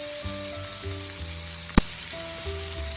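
Scallops sear in a wide pan with a steady, loud sizzle and crackle of hot oil, continuous and close, with one sharp click partway through and no voices.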